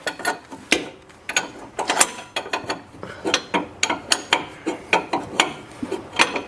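A ratchet wrench loosens the self-locking nut on the front control arm of a Dodge vehicle, giving a series of sharp, close metallic clicking strokes in a steady rhythm, each stroke a separate burst, with no one talking.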